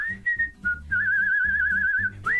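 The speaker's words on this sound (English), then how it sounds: "The old man warble, they call it." A man whistles an old man warble: a few short clear notes, then a long wavering trill on one pitch and a final upward swoop, close and alone.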